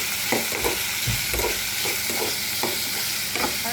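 Liver being sautéed in a pan, a dense, close sizzle broken by rhythmic scraping strokes of a spatula stirring the pieces, with no voices.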